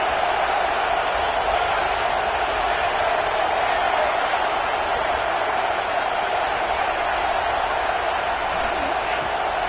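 Stadium crowd at a Georgia vs Ohio State college football game, a loud, steady roar of cheering voices that holds constant throughout, with a commentator talking over it.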